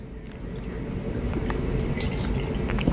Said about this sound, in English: Get my mason jar up and I'm gonna show you the pour.